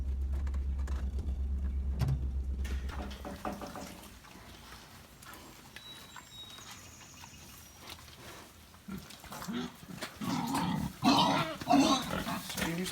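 Pigs being sorted for loading grunt and squeal in short bursts, growing louder and busier toward the end, with a low engine hum at the start and faint clatter around them.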